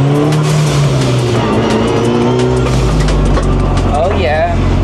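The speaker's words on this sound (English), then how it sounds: "that blow-up valve sounds amazing" Rally car engine revs loud and close, then lets off with the whoosh of its blow-off valve and a trailing rasp, with talk over it.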